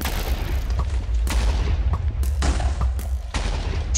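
Minecraft explosions from the Zane Extras mod go off in a quick series of booming blasts, each a sharp burst that fades into rumbling noise, loud and close with no speech over them.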